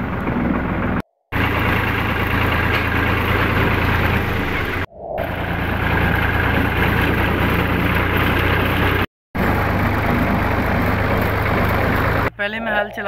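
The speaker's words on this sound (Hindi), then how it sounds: "तो अब्बू ट्रैक्टर चला रहे हैं।" Diesel tractor engine running steadily while ploughing a wheat field in a village, a loud continuous low rumble with brief gaps where the sound cuts out.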